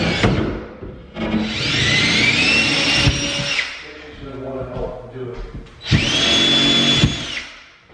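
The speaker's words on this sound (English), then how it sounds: "Drill some holes." A power drill boring holes into wood during home plumbing work, with two sustained high whining bursts, a short pause of quieter rattling between them, and close, loud sound throughout.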